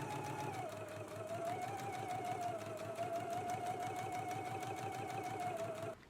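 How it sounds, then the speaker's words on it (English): A sewing machine edge-stitches a fabric patch pocket with a zipper, running steadily at a fast, even rhythm, close up, humming and clattering for several seconds before stopping abruptly. "go to the sewing machine and you just want to do an edge stitch all along the edges"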